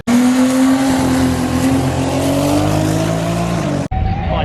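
A loud race car roars past at full throttle down a drag strip, its engine pitch sliding as it speeds away, then cuts off abruptly.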